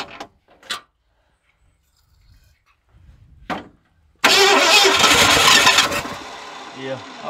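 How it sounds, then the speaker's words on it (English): A 1981 Ford F100 with a 351 Windsor V8, locked up and left sitting for 24 years, cranks and fires into a loud roaring rev close by, then settles back. Brief sounds and talk come before the start. "Yeah, I believe this old motor here is going to run."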